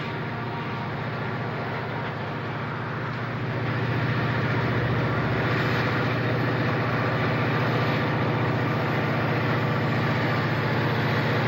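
A westbound B&O freight train hauling empties rolls through Piedmont, Maryland in falling snow: a steady, broad locomotive rumble with a low engine drone that grows slightly louder after a few seconds and holds, no voices.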